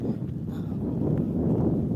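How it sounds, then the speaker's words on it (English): Low, steady rumble of wind buffeting outdoors by a lake, a continuous dull roar with faint rustling and no one speaking. "It's a little windy. Not very, but a little windy."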